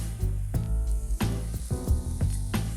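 Onions sizzling loudly in a hot pot for a chicken parm sauce, a steady dense frying hiss with several sharp stirring clatters and spatters, close and continuous with no talk.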